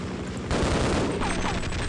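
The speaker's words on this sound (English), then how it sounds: "another helicopter shooting at me" A helicopter fires on the player in Half-Life, a dense, loud burst of rapid gunfire with booming impacts that fills the short moment without a break.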